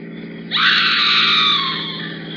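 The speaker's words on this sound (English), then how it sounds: "Sounds like a woman screaming." A woman lets out one loud, sustained scream that starts suddenly and slowly fades, with no speech over it.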